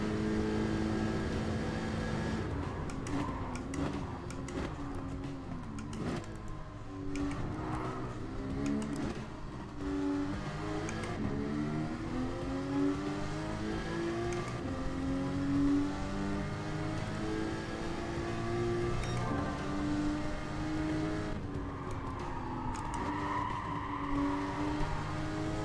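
Subaru WRX in a racing video game: a moderately loud engine note rising and falling through gear changes and throttle lifts, steady for the whole run with no voices.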